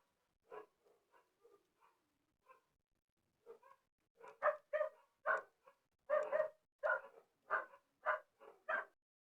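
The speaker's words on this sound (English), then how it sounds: "These dogs, I bet y'all can hear them." Faint, scattered yips come first, then a dog barks in a quick run of about a dozen loud barks, close by, with no talking.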